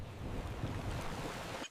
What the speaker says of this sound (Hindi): अम्मा म्याऊ और कैटी एक छोटी लकड़ी की कश्ती में सुनहरे सूरज डूबते समुंदर पर सफर कर रही थीं।